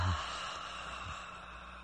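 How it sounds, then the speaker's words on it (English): Slow, deep abdominal breath during a breathing exercise lying on the floor, a single long airy exhale close to the microphone with no talking. "Breathing into the lower abdomen."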